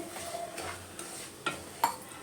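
Semolina roasted with cashews and almonds in a pan over a medium flame, stirred with soft scraping strokes and a couple of sharper utensil clinks against the pan.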